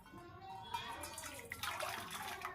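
Running water from a tap for washing the face, a steady close splashing rush with a brief flurry of heavier splashes partway through.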